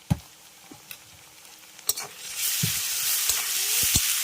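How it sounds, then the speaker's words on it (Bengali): Ginger, garlic, chilli and cumin paste hits onions frying in a pan for a Bengali fish curry, a few sharp spoon knocks first, then a rising loud sizzle. "পেঁয়াজ ভেজে নিয়েছি, এবার এর মধ্যে দিয়ে দিচ্ছি আদা, রসুন, লঙ্কা আর জিরে বাটা"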